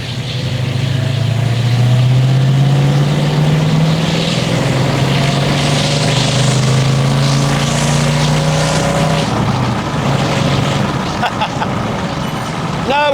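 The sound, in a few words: 1967 Dodge Charger accelerating at full throttle in third gear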